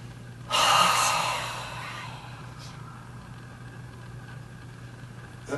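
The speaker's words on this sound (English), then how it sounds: "I take a deep breath in." A single deep breath drawn in during a relaxing breathwork session, a soft airy inhale lasting about a second and a half, close and quiet, followed by faint room hush.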